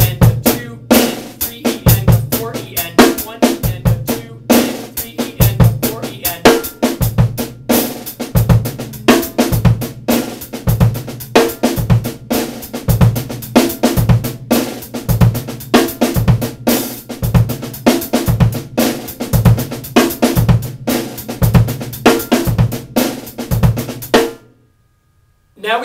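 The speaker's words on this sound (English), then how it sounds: "What I have for you today is basically a groove in 4/4 time." A drum kit plays a syncopated groove in 4/4 time with accented hits, a buzz roll and soft ghost strokes, loud and close, with sharp, dense strikes running continuously before stopping abruptly near the end.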